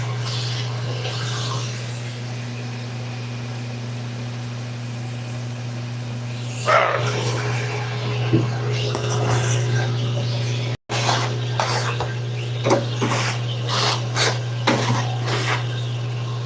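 A drill bit boring into a Hammer Black Widow 2.0 Hybrid bowling ball: a steady motor hum, then scraping, rasping cutting noise with repeated bursts after a short break, up close and loud.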